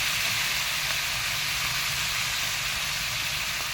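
Water and ginger paste hit a hot pan with turmeric and throw off a loud, continuous steamy hiss and sizzle. It stays even and close for the whole stretch, with no talking.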